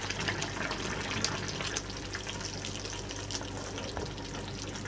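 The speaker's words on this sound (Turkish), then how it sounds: "Şimdi sosumuzdan yavaş yavaş dökeceğiz." Whisked sauce poured slowly over stuffed peppers in a pot, a steady close liquid trickle and splash running continuously without talk.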